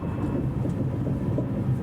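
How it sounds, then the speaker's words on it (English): A deep, steady rumble of a train rolling along the tracks as it arrives at Rennes station, France, heavy and continuous, with no voices. "notre train arrive dans quelques instants en gare de Rennes"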